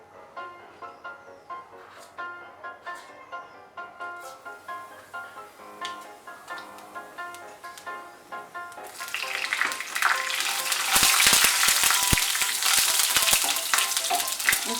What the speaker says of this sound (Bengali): এর মধ্যে কালো জিরে আর কাঁচা লঙ্কা ফোড়ন দেব